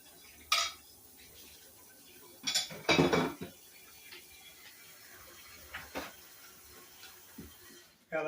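Plates and cutlery handled in a kitchen while cooking seafood: scattered clinks and clatters of dishes and utensils, with a brief louder rattle of stacked plates, close and intermittent over a quiet background.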